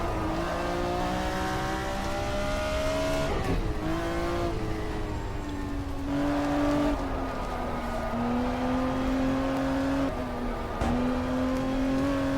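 A BMW race car engine in GTR2 at Kyalami drones steadily through warm-up laps, its tone rising and falling with gear changes and throttle lifts, loud and continuous with no voices over it.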